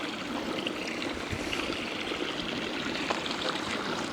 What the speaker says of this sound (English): A lot of different runoff streams here.